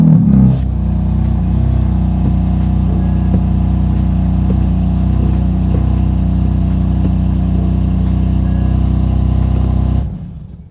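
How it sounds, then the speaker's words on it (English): A BMW F82 M4 engine idles steadily at close range, a deep low rumble holding even for about ten seconds after a brief start-up flutter, then cutting off abruptly near the end. "we're gonna go ahead and turn on the car"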